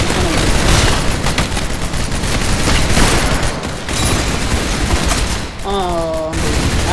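Dense gunfire in the Roblox game Arsenal, a continuous loud fusillade of rapid shots with booming impacts, briefly interrupted near the end by a rising electronic tone before the shooting resumes.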